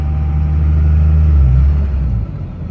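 A 2002 Dodge Ram with a Cummins diesel engine drives along, its low engine rumble steady and strong before easing off near the end as the driver lets off the throttle.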